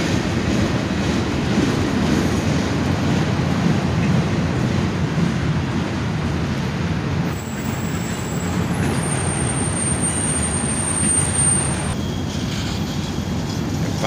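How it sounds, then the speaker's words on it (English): Long freight train of auto rack cars rolling past trackside, a steady loud rumble of wheels and car bodies with faint high squeals toward the end. "the end of the train goes by"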